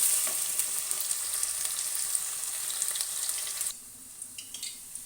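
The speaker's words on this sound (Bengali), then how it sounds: "আলুগুলো কড়াইতে দিয়ে দিয়েছি। এবার এগুলোকে হালকা লাল লাল করে ভেজে নেব।" Cut potatoes frying in a wok (kadai) for a ridge gourd, potato and poppy-seed dish: loud constant sizzling that suddenly quiets, leaving softer crackles and pops.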